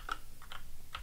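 A handful of crisp keystrokes on an Amstrad CPC 6128 computer keyboard, about four separate clicks in a second, close and clear with no talking.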